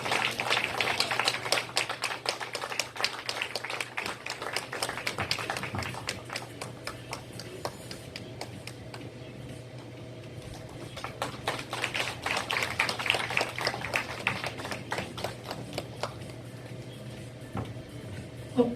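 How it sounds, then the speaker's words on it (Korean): A crowd at a Korean senior model award ceremony applauds steadily, a dense patter of many hands clapping that swells and eases over about twenty seconds. "큰 박수 주세요."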